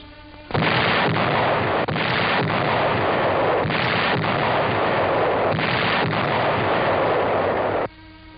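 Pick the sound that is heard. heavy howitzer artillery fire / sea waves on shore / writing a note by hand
heavy howitzer artillery fire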